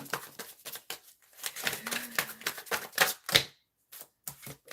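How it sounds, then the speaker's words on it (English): Cards are shuffled in several quick riffling bursts with short gaps between them, close and fairly crisp. "let me shuffle the deck better"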